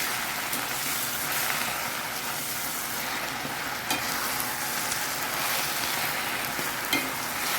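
Bachali (Malabar spinach) and tomato curry sizzles in a pan while being stirred, a continuous crackling fry with occasional soft scrapes, close and steady.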